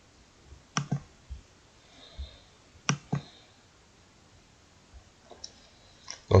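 A computer mouse clicks a handful of times, sharp and close, in scattered single and double clicks over a quiet room.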